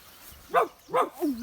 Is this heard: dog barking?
yes